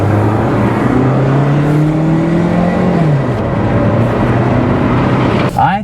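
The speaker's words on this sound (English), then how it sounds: "This is definitely running better now. It's got quite a bit of pickup here." A 2005 Toyota Matrix with over 400,000 miles, just repaired for a P0171 fault, pulls strongly, revving up through a gear before dropping pitch and climbing again, loud and close, with road noise beneath.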